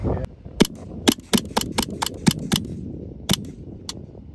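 Gunshots fired at an armadillo on a golf course: about a dozen sharp, loud reports in an uneven rapid sequence over a few seconds, close by and clearly separated.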